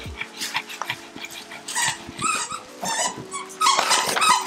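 A mini Pit Bull growls low and lets out whimpering yips in uneven bursts, close and fairly loud, with no talk over it.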